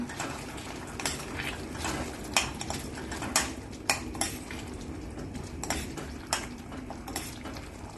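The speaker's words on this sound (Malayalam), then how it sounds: "ഇത് നല്ലോണം ഇളക്കി കൊടുക്കാം." A spatula clatters and scrapes around a pan of dried-shrimp sambal for Malaysian nasi lemak, giving a steady run of soft metallic knocks over a low bubbling sizzle, with no speech.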